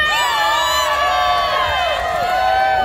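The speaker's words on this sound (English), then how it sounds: "I'ma need y'all to cheer me on." A large crowd at a Las Vegas pool party cheering and whooping, with loud, sustained, dense shouts and screams that fill the whole stretch.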